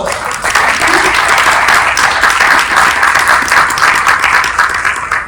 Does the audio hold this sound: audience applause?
yes